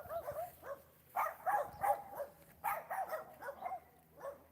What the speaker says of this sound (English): You see the dogs? Some of these dogs are very small.